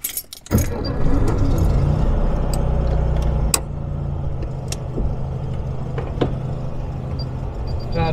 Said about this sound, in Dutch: Zo, dan gaan we nu even een stukje rijden in de kever.